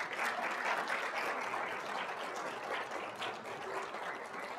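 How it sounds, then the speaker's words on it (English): A crowd applauds steadily at a student induction ceremony, a dense wash of many hands clapping at moderate distance without pause. "students, will you please give them a round of applause?"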